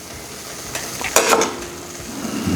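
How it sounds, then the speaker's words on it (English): Cheddar cheese sauce poured over a chili burger on a hot griddle, giving a steady sizzle with a few sharp scrapes and a louder bubbling burst partway through, no talk. "now we're going to hit it up with this beautiful cheddar cheese sauce"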